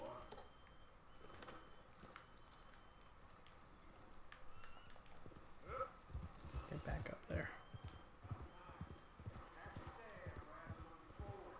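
Horse hooves clip-clop in Red Dead Redemption 2, a fairly quiet run of irregular hoof strikes that grows busier midway, heard under ongoing character dialogue and game ambience.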